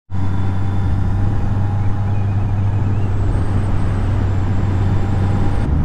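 Steady engine drone and tyre roar from a car rolling into a small town on the Bodensee, a constant close hum lasting throughout with no voices.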